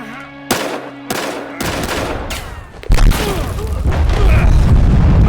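A propane tank blowing up inside a warehouse in the video game Battlefield Hardline: sharp gunshots crack out, then heavy booming blasts give way to a dense, sustained roar of explosion and debris, with a voice briefly heard.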